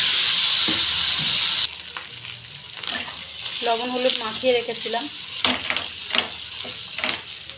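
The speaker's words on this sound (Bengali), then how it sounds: "এবার আমি মাছের ডিমগুলো ভেজে নেব।" Fish roe frying in a pan, a loud hiss that eases into a steady sizzle with spatters and stirring scrapes, while someone speaks briefly over the cooking.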